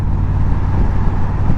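Steady road traffic rumbles around a rider commuting to work in the dark on a fairly quiet morning, a continuous low engine and tyre drone with no clear single pass-by.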